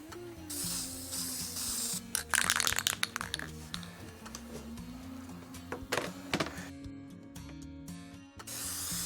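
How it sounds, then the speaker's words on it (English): An aerosol spray paint can hisses in several short, sharp spray bursts onto a scale model piece against a low steady hum, with brief pauses between sprays. "spray paint it now"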